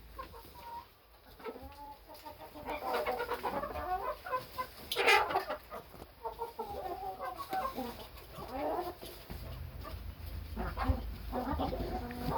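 Backyard hens and a big buff rooster clucking and murmuring close by, with overlapping irregular calls and one louder squawk midway, over a low background hum.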